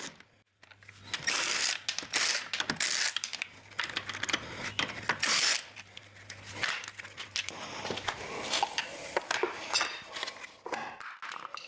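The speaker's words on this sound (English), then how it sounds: "I use a breaker bar to loosen the bolts before removing them with the impact gun" Clicking, rattling tool work on the wheel bolts of a Mini Cooper S R56/R57, with bursts of mechanical ratcheting and metallic clatter spread through the clip, close and fairly loud.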